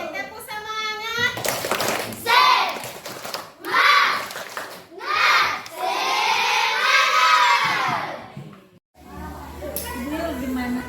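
A group of children in a classroom setting perform a rhythmic spirit clap chant, shouting in unison in loud bursts separated by short pauses, ending with a final cheer.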